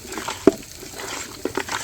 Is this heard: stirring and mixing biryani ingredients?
yes